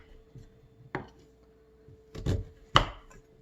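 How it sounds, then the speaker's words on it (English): A knife cuts potatoes into thin rounds on a board, giving a few crisp chopping knocks, sparse and close, with a near-silent gap and no talking. "When I cook these potatoes, I slice them in medallions like this, kind of thin"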